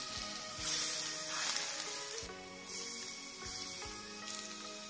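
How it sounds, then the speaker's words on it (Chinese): Hot oil is splashed over chopped scallions for a radish and pork dumpling filling, giving bursts of loud sizzling over steady background music. "倒入切好的葱花，再把热油泼入葱花上"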